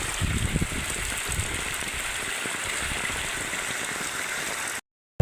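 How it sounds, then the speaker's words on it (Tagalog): Heavy rain from Typhoon Kristine pouring in Masbate Province, a dense, steady hiss of rainfall close by, broken by a sudden short silence near the end, with no voices. "Sobrang lakas ng ulan dito sa aming probinsya ngayon."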